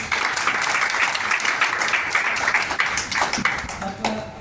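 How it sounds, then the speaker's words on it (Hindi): Audience applause at an Agarwal association oath-taking ceremony in Visakhapatnam, a dense, steady wash of many hands clapping throughout, fairly loud, with a few faint tonal pings near the end. "जोरदार तालियां भाई"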